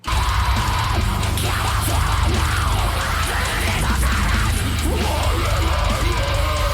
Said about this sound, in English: Screams are so good.